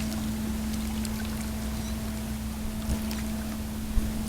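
A Water Ninja trolling motor pushes a Hobie kayak at its lowest speed, giving a steady low electric hum and whir over a constant wash of water and wind, with no talk.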